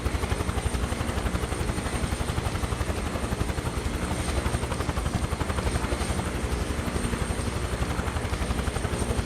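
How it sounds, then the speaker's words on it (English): Helicopter rotor and engine from a flight simulator video game, a steady loud droning whir with rapid rhythmic blade chop throughout, heard alone without talk. "Man, this helicopter sounds so good."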